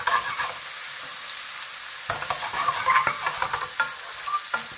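Small shrimp sauté in a pan, a loud, close sizzle that swells and crackles as they are gently stirred, with soft scraping and bursts of spatter.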